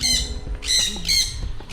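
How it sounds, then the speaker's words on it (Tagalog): Birds squawking loudly and close by, in about three harsh calls over a busy outdoor background, likely at a zoo or park with animals. "Puro ibon"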